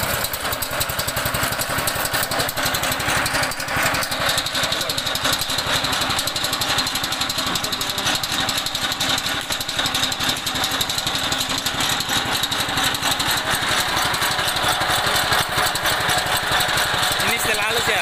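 A chaff cutter's engine runs steadily at a constant mid-pitched drone throughout, close and loud, with people talking over it.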